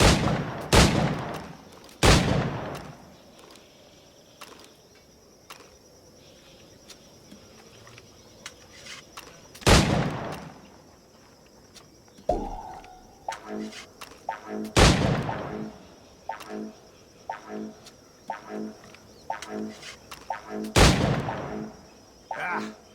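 Shots ring out at targets in Assassin's Creed IV: Black Flag, loud single reports spaced several seconds apart, with quicker clusters of lighter impacts and clicks in between.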